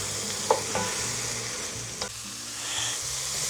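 Chopped leeks frying in a pan for a leek and potato soup, a steady close sizzle with a few sharp clicks of stirring, no voices.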